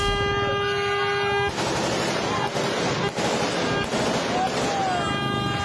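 Rapid gunfire rings out during an ambush in Barangay Kapihan, San Rafael, Bulacan, recorded on CCTV: a dense, loud, continuous volley of bangs that bursts in after a quieter start and keeps going with no pauses.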